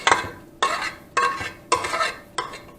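Spoon scraping cooked BBQ beef off the inside walls of a pot in five strong, evenly spaced strokes, each a bright scrape, close and loud with no talking.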